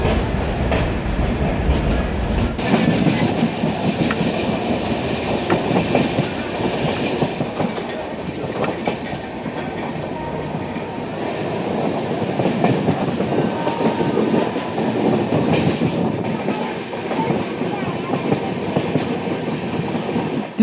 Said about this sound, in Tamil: சூப்பர் ஃபாஸ்ட் எக்ஸ்பிரஸ்னா சும்மாவா? அதனால தான் இப்படி போகுதுன்னு நான் அப்போ நினச்சேன்.